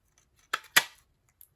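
Two quick scissor snips cutting a small leftover strip of pumpkin pie coloured cardstock for a stamped fold card, crisp and close in a quiet room, followed by a faint tick.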